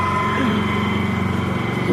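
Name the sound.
inverter generator engine running quietly without load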